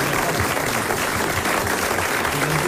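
A studio audience at a French radio comedy panel show claps steadily and densely throughout, a full, even wash of applause with no break.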